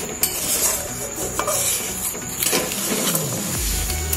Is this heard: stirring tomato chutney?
yes